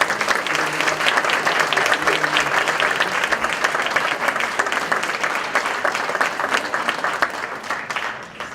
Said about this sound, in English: Again, a round of applause for all of our teachers.